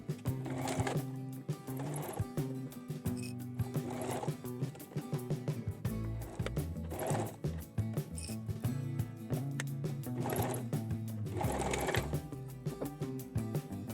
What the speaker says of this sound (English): To prevent your machine from skipping stitches, be sure to use a dedicated denim needle.